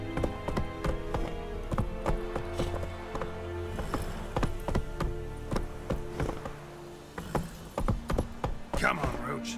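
Hooves of the horse Roach galloping in The Witcher 3: Wild Hunt, a fast, steady clip-clop rhythm running close and continuous under background music, with a voice speaking briefly.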